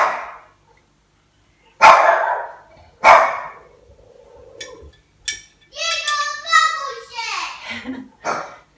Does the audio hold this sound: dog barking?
yes